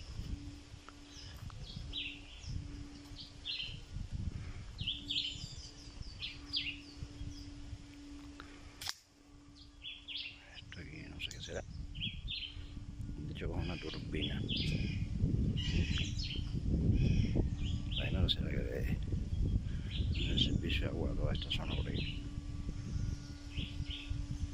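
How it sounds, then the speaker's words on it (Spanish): Birds chirp and call in Cuban coastal countryside, scattered bright tweets over a rustling outdoor background, quiet and distant, with a brief handling click partway through and no speech. "Están sintiendo el canto de las aves, ¿no?"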